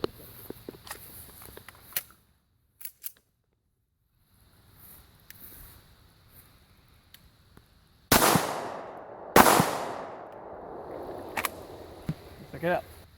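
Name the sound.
Hornady Critical Defense rounds fired at level 4 ceramic plate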